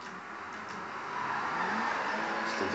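A car drifts in the video game GTA 5, a continuous engine drone with tire squeal that builds louder partway through, alone with no talking.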